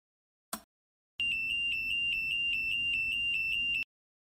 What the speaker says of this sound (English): we generate a Buchholz trip alarm